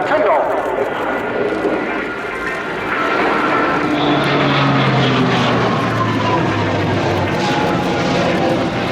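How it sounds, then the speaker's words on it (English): An A400M Spartan military transport aircraft passes over the display line at the Royal International Air Tattoo, its propeller engines droning loud and steady throughout with a rising, shifting tone, while a commentator talks over it. "the Spartan flies over the display line again from left for a second turn-off"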